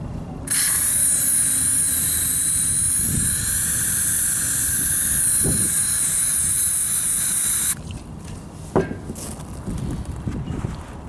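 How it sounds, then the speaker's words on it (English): A steady, forceful hiss of DEET aerosol spray onto a car headlight runs for about seven seconds, then cuts off, followed by light handling clicks and rustling. "I'm going to go ahead and give it a spray and let it sit."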